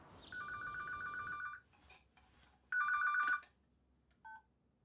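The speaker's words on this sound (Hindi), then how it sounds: "मैम आपके लिए फोन है।" A telephone rings in an office setting, a bright electronic trill heard in two clear bursts with a shorter chirp after, fairly close and with no talk over it.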